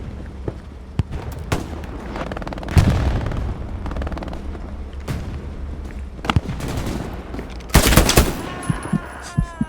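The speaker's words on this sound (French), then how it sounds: "Il y a quelqu'un qui tire là." Gunfire rings out in an infantry battle in the video game Hell Let Loose: scattered single shots and short bursts crack out at varying distances, with a loud close volley near the end.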